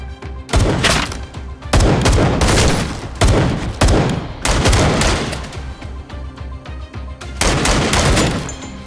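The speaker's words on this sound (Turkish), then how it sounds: "Tüfek değil, Fatih'in topu be." Heavy, loud gunfire in a Turkish TV drama, bursts of rapid shots and booms coming in several long volleys separated by brief pauses.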